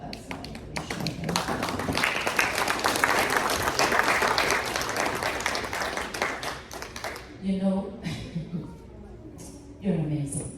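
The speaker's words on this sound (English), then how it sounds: "A big hand clap." An audience claps for several seconds, a dense burst of hand clapping that thins into scattered claps, with voices speaking as it fades and another short flurry at the end.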